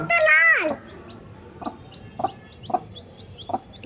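Newly hatched Sonali chicken chicks close by: one drawn-out falling call, then a run of short, sharp peeps at an uneven pace.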